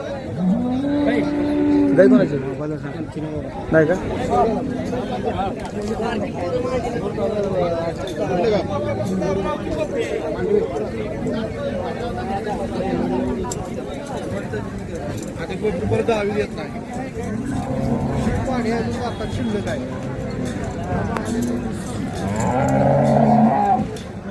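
Bulls, cows and buffalo moo and low repeatedly at a busy cattle market in Karad, Satara, the calls rising over a constant hubbub of crowd chatter and talking voices nearby.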